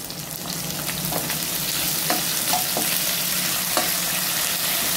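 Chopped capsicum and onion frying with a spoonful of chilli sauce, a loud steady sizzle with a few soft spatula scrapes and taps, close and continuous without voices.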